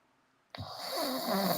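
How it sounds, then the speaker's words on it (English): A man snores once: a sudden raspy, drawn-out inhale that starts after a short silence and swells louder, heard alone. "It sounds like he's snoring to me."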